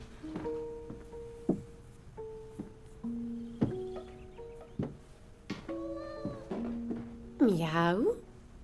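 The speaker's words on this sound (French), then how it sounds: "t'es un pauvre chat qui s'ennuie tout seul" A cat meows several times in drawn-out, harmonic cries spread through the scene, ending in a louder, wavering yowl; indoor setting in a tense drama.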